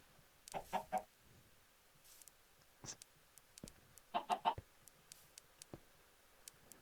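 Chickens in a Minecraft-style video game cluck in short, scattered bursts with soft clicking, fairly faint over a quiet background.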